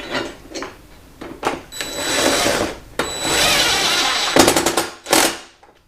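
Bolts on a rear rack for a 2022 Kawasaki KLX300 motorcycle are tightened with a power tool, giving loud, close whirring and ratcheting bursts between quieter clicks, with no speech.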